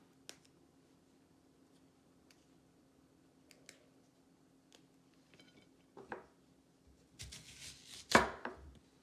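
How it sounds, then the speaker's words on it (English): Snow peas trimmed with a knife on a board: sparse faint taps at first, then a cluster of quick, close, louder chopping strikes toward the end, with no talking. "Let's start by taking the ends of the snow peas."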